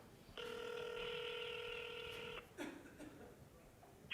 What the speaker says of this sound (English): So I'm dialing a phone number now.